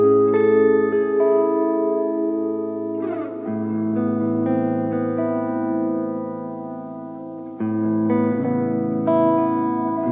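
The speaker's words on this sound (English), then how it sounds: "this is kind of the most ducked kind of reverb sound," An electric guitar through a reverb pedal rings out sustained chords through a soft, ducked reverb that swells behind each note, with a few chord changes and no voices.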